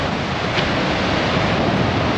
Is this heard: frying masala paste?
no